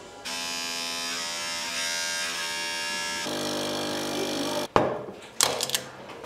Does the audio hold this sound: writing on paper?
no